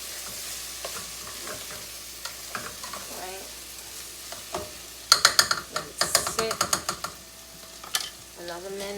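Home fries with onions and peppers sizzle in a pan as a spatula scrapes and stirs them, with a run of sharp, close scraping clicks toward the end over a steady frying hiss.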